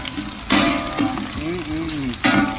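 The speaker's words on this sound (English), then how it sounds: "So we're gonna stir fry until it's golden brown" Garlic stir-fries toward golden brown in a pan for sautéed Lao-style mussels, a close crackling sizzle with short bursts as it is stirred, heard under someone talking.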